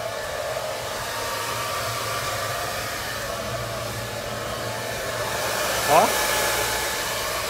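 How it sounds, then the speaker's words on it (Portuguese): A hair dryer blows a steady, loud, close whoosh while drying a mother's long hair, with a brief short voice breaking in near the end. "agora nós estamos secando o cabelo da mami, as madeixas"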